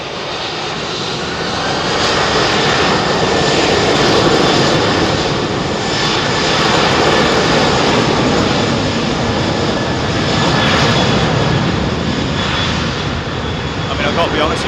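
A jet airliner takes off close by from Heathrow runway 27R, a loud sustained engine roar that swells after the first couple of seconds and stays strong, with people talking over it at times.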